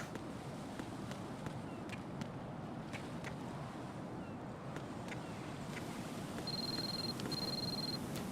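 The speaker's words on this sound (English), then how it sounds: "Oh, our cell phone's ringing." The codec phone rings in Metal Gear Solid 2: Sons of Liberty, two short, bright electronic beeps heard near the end over a steady bed of wind and water ambience from the game.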